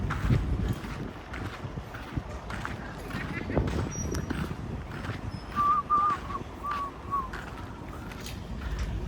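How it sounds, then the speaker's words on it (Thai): Gusty cold wind with no rain buffets the microphone in low rumbling surges, with people talking over it and faint whistling sounds in the background. "ไม่มีฝนนะครับวันนี้มีแต่ลมๆแบบ ลมหนา"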